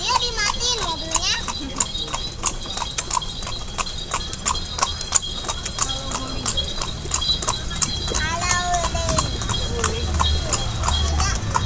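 Horse hooves clip-clop in a steady walking rhythm during a horse ride along Malioboro, with carriage-like rattling and busy street noise, children's voices and occasional chatter in the background.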